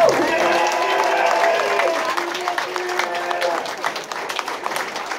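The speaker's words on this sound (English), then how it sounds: "one more round of applause for our student athletes." An audience at a senior awards ceremony applauds and cheers for student athletes, with a dense wash of clapping and scattered whoops that fades slightly toward the end.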